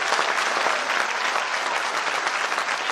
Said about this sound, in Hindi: अगर ताली बजानी है तो इन लोगों के लिए बजाना जो आज हमारे प्रोग्राम में पहली बार है